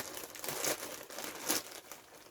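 Crinkly plastic packaging of a mailed parcel rustles and crumples in repeated bursts as it is handled and opened, close and fairly quiet, with no talking.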